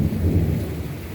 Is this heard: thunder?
yes